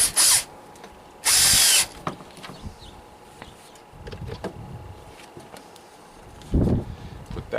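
A power tool snugging headlight bracket bolts on a 2009 Ford F150 Lariat, two loud close whirring bursts early on, then quieter handling noises and a shorter burst near the end.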